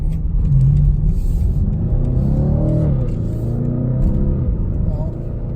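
A turbocharged V8 of over 500 horsepower in a 2019 BMW M850xi accelerates in sport mode, a steady, loud engine drone with rising harmonics heard from inside the car, with talk over it.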